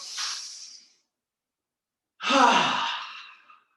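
Two deep breaths during a qigong breathing exercise: a soft airy inhale, a pause of silence, then a longer, fuller exhale, close and alone with no talk.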